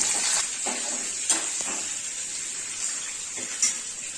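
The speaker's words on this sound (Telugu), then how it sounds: "పోపులోనే కరివేపాకు కూడా వేసుకొని కలుపుకోవాలి." Curry leaves stir-fried in hot tempering oil for gongura pickle give a continuous crackling sizzle, broken by a few soft scraping strokes of the stirring spoon, fairly close, with no one speaking.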